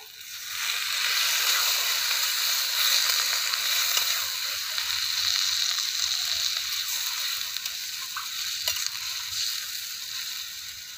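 Water poured into a pan of frying cabbage and potato curry sets off a loud, steady sizzle with a hissing rush that fades a little over several seconds.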